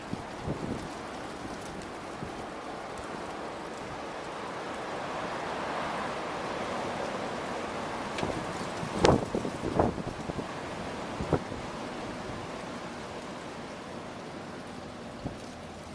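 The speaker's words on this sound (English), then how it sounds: "You hear that wind?" Strong wind blows on a very windy March day, a steady roaring rush with buffeting gusts and a few sharp knocks and clatters partway through.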